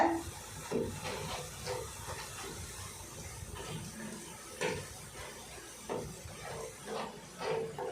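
A soft continuous hiss and crackle of murukku frying in hot oil, with intermittent louder bursts and light clinks scattered across the few seconds.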